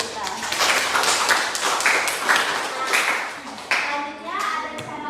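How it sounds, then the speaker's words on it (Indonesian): Classroom audience clapping and applauding after a relaxation-technique segment in a group presentation, a dense steady patter of many hands lasting several seconds with a brief louder burst near the end. "Beri tepuk tangan dulu untuk kita."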